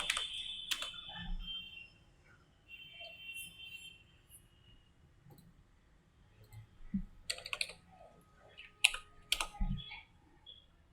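Quiet, sparse typing on a computer keyboard in a command-line hacking walkthrough, with scattered key clicks in small bursts and a closing flurry of taps over a low background hum.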